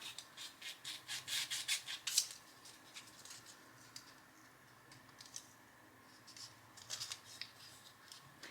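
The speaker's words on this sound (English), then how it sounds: "I'm gonna take my knife here and I'm gonna cut my pumpkin in half" A knife slicing a pumpkin in half on a silicone mat: quiet, close scraping and crunching cuts, a quick burst of short strokes followed by softer intermittent rubbing, with no talking.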